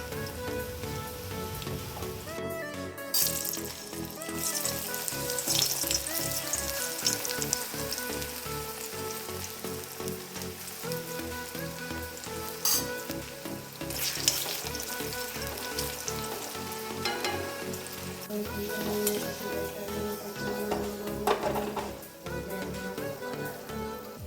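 Tapioca (kappa) chips fry in hot oil, a continuous soft bubbling crackle like rain with occasional louder stirring clatters, steady and fairly quiet throughout.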